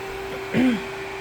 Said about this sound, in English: the vacuum cleaner was moistening the roller brush, and now she's gonna be headed towards us